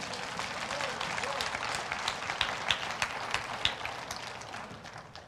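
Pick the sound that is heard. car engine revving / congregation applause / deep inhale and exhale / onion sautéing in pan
congregation applause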